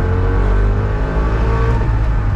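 A Trabant 601 engine pulls hard under acceleration, heard from inside the car as a loud, steady, buzzing drone that holds its pitch and rises only slightly across the whole stretch, with no talking.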